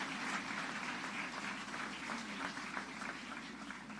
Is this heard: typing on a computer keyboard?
no